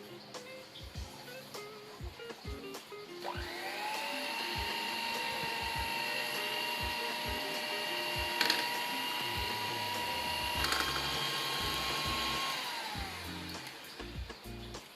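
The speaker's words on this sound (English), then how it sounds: "beat them on the lowest speed that's available in your electric mixer and mix until all of the cocoa powder is incorporated" Electric mixer on lowest speed beating cream and cocoa powder for chocolate ice cream, a steady high whine that starts, runs for about ten seconds and stops, with bowl clatter before and after.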